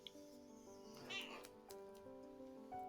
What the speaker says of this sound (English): You meowing, Cleo?